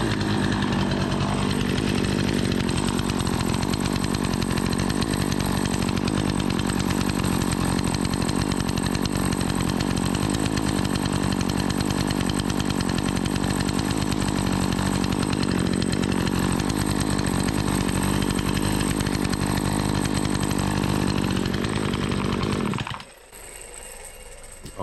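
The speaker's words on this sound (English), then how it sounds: "We'll go ahead and crank it back up." A Remington 46cc gas chainsaw, a free saw under repair, runs continuously at a steady high buzz, close and loud for over twenty seconds before cutting off abruptly near the end.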